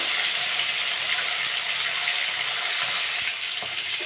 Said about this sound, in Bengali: পাল্টে ভালো করে ভেজে নেব।